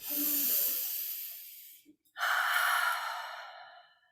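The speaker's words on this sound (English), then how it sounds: "Take a deep breath in and out." A person takes a deep breath in, then lets it out, two long, close, airy breaths separated by a brief pause, with no other sound.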